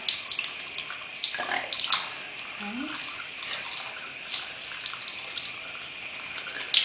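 Makeup brushes are washed under running water with a bar of soap, a continuous splashy tap stream with scrubbing swishes and occasional drips, close.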